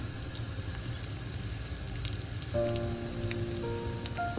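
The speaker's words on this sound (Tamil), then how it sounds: "இப்போ எண்ணெய் கொதிச்சிட்டது கடுகு சேர்ப்போம் பெருஞ்சீரகம் சேர்ப்போம்" Mustard seeds and fennel seeds sizzle steadily in hot oil for a Tamil brinjal curry, a close, even crackling hiss that carries throughout without a break, with a faint tonal hum entering partway through.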